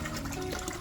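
Water pours from a hose into a small outdoor baby turtle pond, giving a brief, faint, steady splashing gush with no talking.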